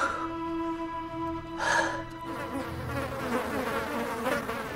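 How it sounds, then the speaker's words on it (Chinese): Many flies buzz around clothing in warm weather, a steady close insect drone with a brief louder burst partway through. "你们看，好多苍蝇，这怎么回事？"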